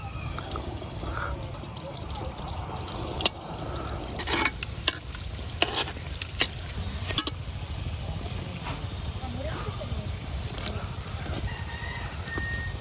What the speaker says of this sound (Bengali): বনগুলা বাজার জন্য কড়াই এখন দিয়ে দিতেছি তেল।